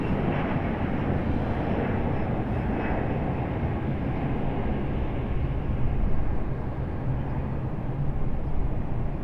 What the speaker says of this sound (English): I hear the one from Delta just behind us there starting up